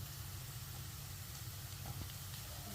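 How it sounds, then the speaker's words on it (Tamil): Shallots sauté with salt in a pan over medium heat as they begin to brown, giving a steady, soft sizzling hiss over a low rumble, with no voices. "வெங்காயம் வதங்கிடுச்சாமா? இன்னும் கொஞ்சம் வதங்கணுமா? இந்த இப்போ தான் ப்ரௌன் கலராக வருது"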